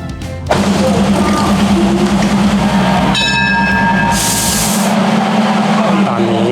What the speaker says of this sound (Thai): เราจะนั่งรถไฟไปลงที่มหาชัยกันก่อนนะ